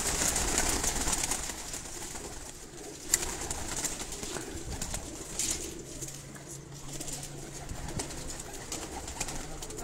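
Rooftop breeder pigeons coo steadily in a chorus of soft, overlapping calls, heard close and alone with no talking.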